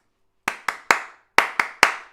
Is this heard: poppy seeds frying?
no